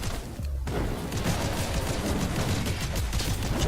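Rapid, sustained gunfire from shooting in the space combat video game Seraph, loud and dense throughout after a brief quieter start, with no talking.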